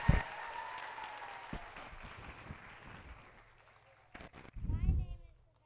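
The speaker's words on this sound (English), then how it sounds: "Can I get a round of applause for someone?" A school audience at a young authors' night breaks into applause that starts with a sharp burst, then fades steadily, followed by a brief louder rustle as it ends.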